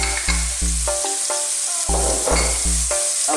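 Onions dropped into hot oil left over from searing steak, frying in the pan with a loud, close, continuous sizzle broken by a few stirring clatters.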